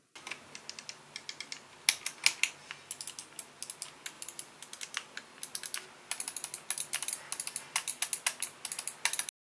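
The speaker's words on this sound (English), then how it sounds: "Here is a quick audio sample of the mouse clicks." Buttons on a Logitech gaming mouse click repeatedly in close, crisp bursts, sometimes single taps and sometimes rapid runs, with short pauses between, alone in a quiet room.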